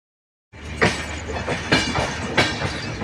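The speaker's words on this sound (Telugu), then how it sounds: "ట్రైన్ బ్రిడ్జి మీద ఆగిపోయి ఉన్నది" A train on a railway bridge near Vijayawada gives a steady rumbling rattle with three louder clattering bursts, fairly close, with no voices.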